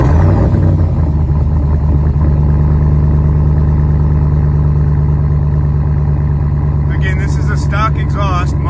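A 2012 Ram pickup with a Hemi V8 and stock muffler-only exhaust idles after a brisk-weather start, a loud, steady low rumble close by throughout, with some faint higher chirps near the end.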